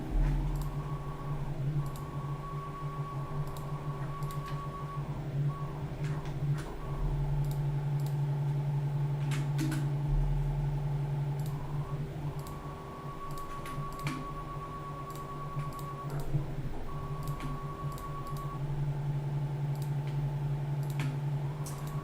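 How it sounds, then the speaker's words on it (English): A loud office printer runs continuously with steady mechanical hum and repeated clicking, ticking carriage movements, close by and alone without talk. "That printer is so loud"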